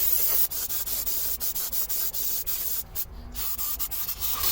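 Brake cleaner sprayed onto the hub of an 1985 Toyota van during a brake job, a close, steady hissing spray broken by short pauses, with a brief louder burst near the end.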